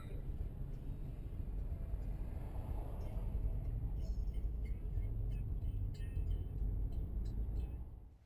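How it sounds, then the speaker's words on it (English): Road traffic in Istanbul makes a steady, loud, low rumble of car engines and passing vehicles, continuous for several seconds before fading at the end. "Traffic. My favorite part of traveling."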